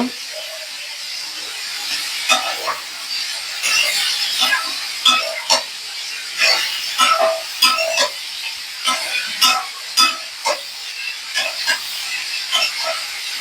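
Food sautés in a pan, giving a steady close sizzle broken by repeated bursts of crackle and hiss as it is stirred, with no talking.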